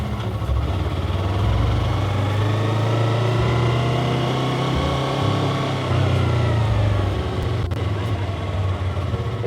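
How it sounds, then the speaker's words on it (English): A car engine hums steadily up close, its pitch sliding down and back up as the driver shifts from fourth back to third gear during a U-turn, with no talk over it. "Then back to third gear because I'm making a U-turn out here."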